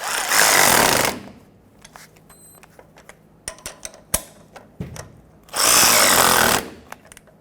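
Bursts of a power tool, likely an impact gun, tightening the tie rod sleeve bolts with an 18mm and 17mm socket on a 2000-2005 Ford Excursion. Two loud bursts lasting about a second each come at the start and near the end, with clanks and taps of the tool between them.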